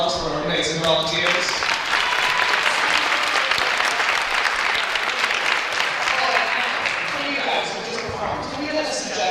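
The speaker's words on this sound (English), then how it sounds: "Do we have a round of applause for our amazing volunteers?" Crowd at a high school poetry event gives a loud, sustained round of applause for the volunteers, dense clapping with a few cheers, as voices speak briefly at the start and end.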